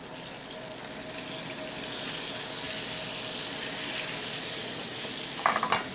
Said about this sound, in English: Now we're going to saute this.